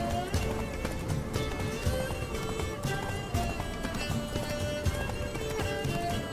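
A horse gallops hard with quick, rhythmic hoofbeats in a fantasy game chase, close and driving, with an occasional whinny and a voice shouting over the pounding.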